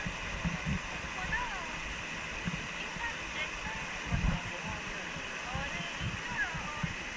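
A waterfall on Kerosene Creek roars steadily nearby, a constant rushing wash of water with occasional splashes and faint voices underneath.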